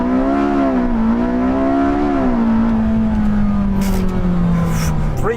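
Porsche 918 Spyder launching hard from a standstill to 60 mph, its engine note a loud, steady close-up whine that rises in pitch, dips briefly, then settles into a smooth sustained roar with wind rush.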